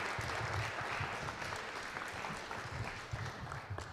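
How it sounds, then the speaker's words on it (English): Sustained applause from a university lecture audience, steady and full throughout with no voices rising above it. "let's please give a round of applause for Reverend Dr. Jacqui Lewis."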